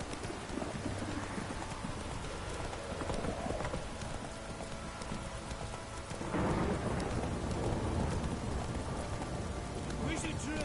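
The horse Roach trotting in The Witcher 3, a steady clip-clop of hooves over falling rain, with a thunder rumble rising partway through and talk over it.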